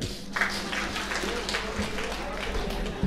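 Audience applause at a women's day celebration held by a women's association in Trichy, heard as a dense, steady patter of clapping that fills the moment while voices carry on underneath.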